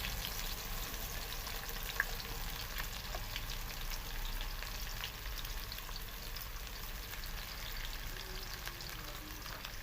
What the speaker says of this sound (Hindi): गरम गरम घी के अंदर प्याज जो है फ्राई हो रहा है